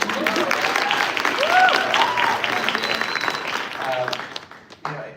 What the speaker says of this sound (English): Let's give another round of applause for our new Senator, April Massey.